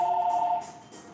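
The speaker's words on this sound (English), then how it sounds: "why is that phone ringing?" A telephone rings indoors in a home kitchen with a steady electronic warbling tone, pulsing for about half a second before stopping, moderately loud with no talk.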